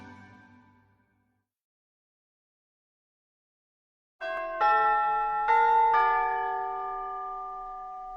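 A bell is struck at a game night indoors, giving several bright metallic rings in quick succession after a short silence, each tone sustaining and slowly decaying, fairly close and unaccompanied by talk.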